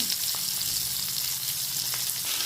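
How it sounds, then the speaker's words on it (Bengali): Onion, tomato and green chilli fry in hot oil left from frying fish, giving a steady, soft, close sizzle with faint crackles and no talking. "পেঁয়াজ টমেটো কাঁচা লঙ্কাটা দিয়ে দিচ্ছি, একটু হালকা করে ভেজে নেবো।"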